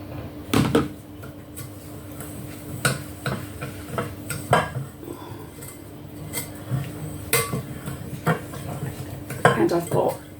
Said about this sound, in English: So this is 113 grams of melted butter. Just stirring it